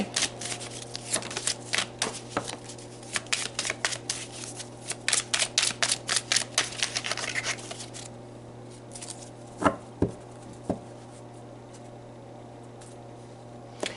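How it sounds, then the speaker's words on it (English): Tarot cards being shuffled in a rapid run of crisp riffling flicks, close and clear, followed by a quieter pause with a few soft taps as cards are laid down. "Let's pull some more cards to clarify."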